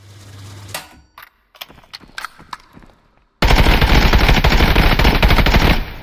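A 5.56x45 rifle fires in the video game Contractors Showdown: a few scattered shots come first, then a loud, continuous stream of full-auto fire runs for more than two seconds before cutting off.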